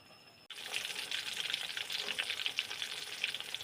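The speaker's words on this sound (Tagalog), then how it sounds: "At syempre magpiprito din ng hotdog." Hotdogs frying in a pan give a loud, steady crackling sizzle that starts abruptly after a brief quiet moment and holds, with dense popping spatter, close up and alone.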